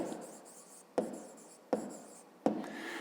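A pen writes on paper close by in a quiet room, with faint scratchy strokes broken by three sharp taps or lifts spaced about a second apart, no voices over it.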